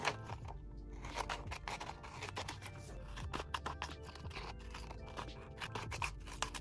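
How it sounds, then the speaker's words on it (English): Scissors cut out a paper shape for a homemade squishy craft, making close, quiet, repeated snips and crisp paper rustles in an uneven rhythm. "I'm going to take my scissors and just cut it out"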